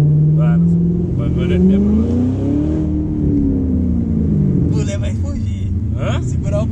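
A 460-horsepower Corvette V8 sports car engine revs and accelerates with a loud, continuous rumble, while voices talk over it throughout.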